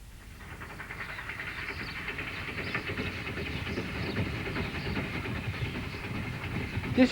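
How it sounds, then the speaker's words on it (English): A heritage train runs over a recently reopened section of railway toward Northiam, giving a steady, moderately loud rolling rumble with a broad hiss throughout and no voices. "This train is travelling over a recently reopened section of the railway."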